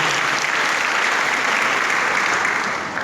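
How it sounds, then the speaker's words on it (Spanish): Steady applause from a morning church congregation, broad continuous clapping from a large crowd that stays full and even before easing slightly at the end. "Denle un aplauso al Señor, por favor."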